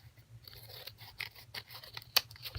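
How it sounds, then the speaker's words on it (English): Scissors snip away the edges of layered, decoupaged craft paper, giving a run of quiet, close, crisp cuts and rustles with one sharper snap near the end. "here's my scissors, and cut those edges off"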